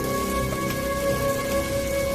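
Cartoon rain falls steadily as a dense, even patter under a sustained musical tone, with no voices and constant loudness across the short stretch.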